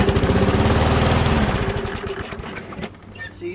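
A Poulan PXT12538 lawn tractor engine, starved of fuel from a suspected bad carburetor diaphragm, chugs loudly with a fast rhythmic pulse at first, then sputters, loses rhythm and dies away within a few seconds.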